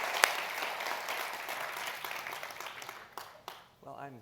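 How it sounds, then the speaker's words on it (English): Conference audience applauding to welcome two speakers on stage, a dense wash of clapping that fades out over a few seconds as a voice begins. "please give a big applause to them to welcome to Shawn Layden and Mark Cerny"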